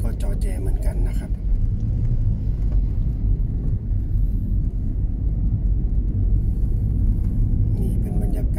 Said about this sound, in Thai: เช้าแบบนี้ในเมืองยะโสธรนะครับรถก็จอแจเหมือนกันนะครับ